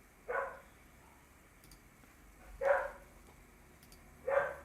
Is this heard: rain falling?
no